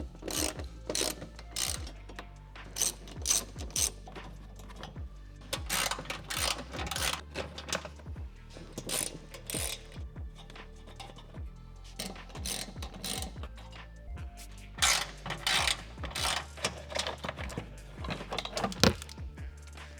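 Ratchet wrench clicking rapidly in repeated bursts while bolts are backed out of the front shroud of a Toyota 4Runner, close and fairly quiet, with short pauses between runs.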